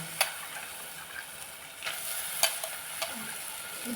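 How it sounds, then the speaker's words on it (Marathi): Hyacinth beans (val) and diced potato being sautéed with spices in a pan: a soft steady sizzle with occasional scraping stirs of a spatula, fairly quiet and with no talk. "हे परतन घेऊया"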